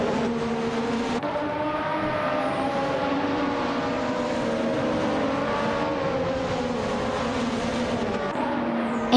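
Race cars in a racing game hold a steady, continuous engine drone at close range, engines whining evenly throughout with a brief shift in pitch near the end and no talk.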